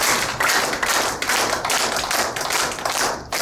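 A group claps hard with flat palms in a steady, rapid rhythm, each clap a sharp woody smack repeating for several seconds.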